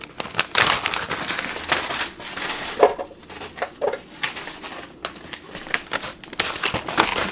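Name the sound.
frozen strawberries and raspberries added for a smoothie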